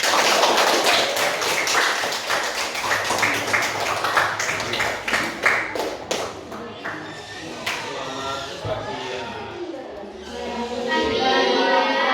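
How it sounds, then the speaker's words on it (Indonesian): A primary-school class claps together, a dense burst of many hands that thins into scattered claps, with children's and a teacher's voices mixing in as the clapping fades. "Tepuk tangan dulu."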